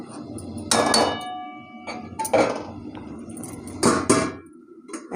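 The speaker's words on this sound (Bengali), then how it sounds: "এখানে লাউ আর আলু তেলে দেওয়া হচ্ছে" Chopped bottle gourd and potatoes go into hot oil in a metal pan for a dhaba-style moong dal. Three separate clattering bursts ring with metallic clinks, close up, with short quiet gaps between them.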